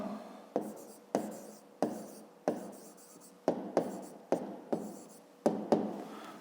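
Pen or pencil writing out a fifth-grade math solution, a run of about ten short scratchy strokes, each starting sharply and fading, close and steady with no voices.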